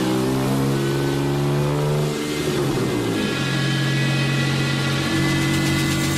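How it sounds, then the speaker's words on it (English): A car engine run on a dynamometer revs hard and loud, dips sharply in pitch midway, then settles into a steady, high drone. "Using a machine called a dynamometer, Ron's team put the Scorpion through its paces."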